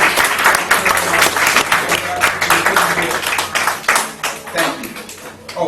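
Group applause at an awards ceremony, loud and close, with crisp overlapping claps that swell and ebb for several seconds, and voices and cheers mixed in.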